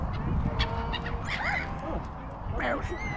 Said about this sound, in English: Look at all the dicky birds.